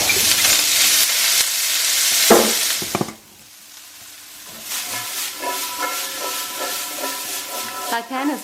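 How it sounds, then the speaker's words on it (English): Asparagus frying in oil in a heavy pan gives a steady hiss and sizzle that drops off briefly around the midpoint, then comes back with clanks and rattles from the pan in a kitchen setting. "Fry up the asparagus."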